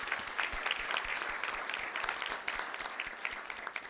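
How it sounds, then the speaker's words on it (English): A crowd at a school board of trustees meeting applauds its students with loud, steady clapping, a thick, even roar with sharper individual claps standing out near the front, and no talking over it. "let's give a round of applause to our amazing students."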